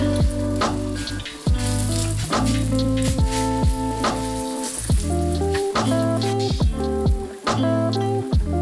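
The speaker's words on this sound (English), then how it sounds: "Once you hear sizzling, flip to the other side" A steady crackling sizzle from a scallion pancake in a hot frying pan runs throughout, with a sustained musical tone playing over it.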